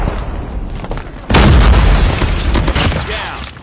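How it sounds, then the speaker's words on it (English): Grenade explosion in a Call of Duty multiplayer match, a single loud, close boom that bursts in suddenly and rumbles on for a couple of seconds amid the game's background noise. "Grenade."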